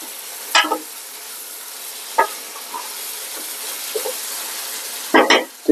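Chicken pieces frying in a pan for Kerala-style coconut milk chicken biryani, a steady soft hiss broken by a few sharper clattering stirs, loudest near the end.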